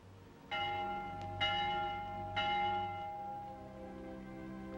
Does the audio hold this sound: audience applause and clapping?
no